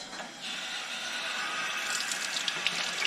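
Cold water runs from a utility sink faucet in a steady, hissing stream, with a few faint splashy ticks near the end and no voices.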